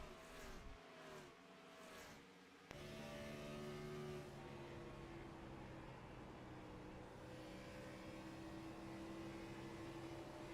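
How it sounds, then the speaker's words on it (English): Race cars accelerating around a track in a Texas racing series, a sustained engine drone whose pitch climbs and holds, heard at a moderate distance with no voices. "He was able to get off of the throttle there in 3 and add throttle a little bit sooner than what Ledesma was able to do."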